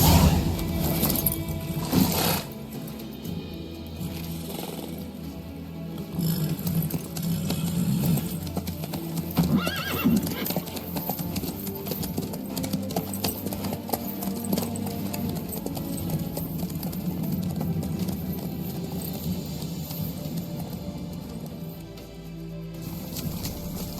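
Horse hooves clip-clop at a steady trotting rhythm while riding in The Witcher 3: Wild Hunt, close and continuous for the whole stretch, with game music and occasional voices beneath.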